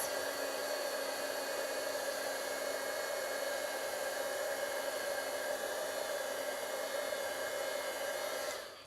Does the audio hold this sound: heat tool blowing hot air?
yes